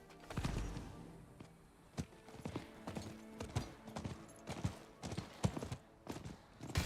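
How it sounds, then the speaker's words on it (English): Rhythmic clip-clop of horse hooves in Diablo 4, a run of sharp, close thuds in an uneven gallop-like pattern that continues throughout, with a faint low rumble underneath. "Alright, I got my horse back."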